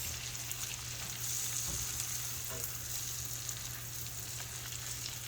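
Yellow squash frying in a pan, giving a steady, even sizzle that continues for several seconds with no voices.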